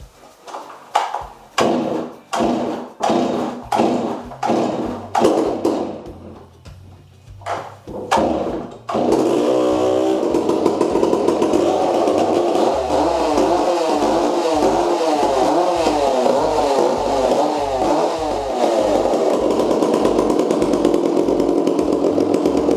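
A chainsaw being started: a run of sharp pull-cord yanks with sputtering false starts, then the engine catches and runs loud and steady, revving up and down close by.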